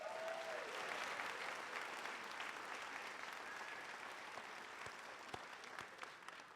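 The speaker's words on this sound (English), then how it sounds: "I'm glad you're practicing your applause" A theater audience in the Robinson Theater at Whittier College applauds, a faint, dense, steady patter of many hands clapping continuously throughout.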